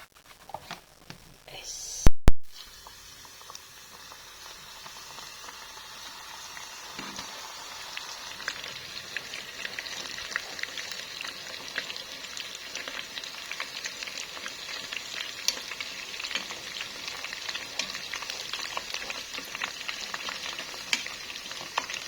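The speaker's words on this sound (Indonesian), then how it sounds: "Nah, baru digoreng." Breadcrumb-coated food fries in oil over a low flame, a brief clatter up front giving way to steady, close sizzling and crackling that builds gradually and continues alone.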